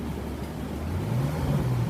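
Ferrari F12berlinetta's V12 engine idling with a low, steady rumble that swells slightly as it revs gently, close and continuous.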